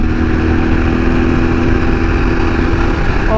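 A 2011 Yamaha Super Tenere XT1200Z motorcycle cruises at high highway speed, its engine drone loud and steady throughout, mixed with constant rushing wind noise and no talking.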